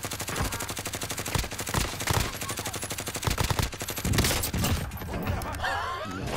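Rapid automatic gunfire from the video game Call of Duty: Modern Warfare, dense bursts of loud, closely spaced shots running almost continuously, thinning out toward the end as other game sounds come through.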